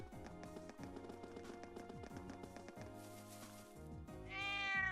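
Cat meowing in the video game Trails of Cold Steel, a short meow near the end over looping game music with a steady rhythmic beat.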